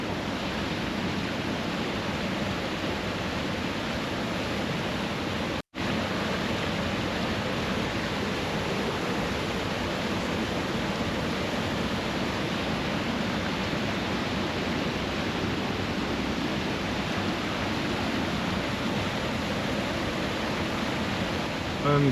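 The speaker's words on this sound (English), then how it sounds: "you hear the water, how it's flushing through here and bumping up against this log" Water rushes steadily past a log near Ohio waterfalls, a loud, continuous broadband roar with only a momentary cut, no voices over it.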